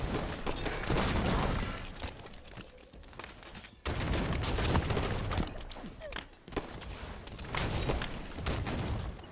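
Gunfire crackles through a Halo 5 match, with dense bursts and repeated shots, split by brief lulls into three loud stretches.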